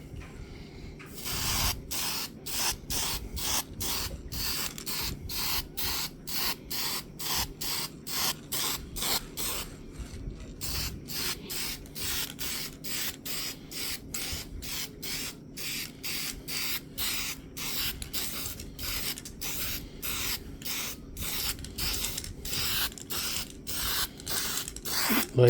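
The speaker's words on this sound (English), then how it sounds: "What I have here is some lacquer, or it's basically like clear coat for it." Lacquer clear coat is sprayed onto a guitar body in a long series of short, hissing bursts of even rhythm, with a brief pause partway through, close and fairly quiet.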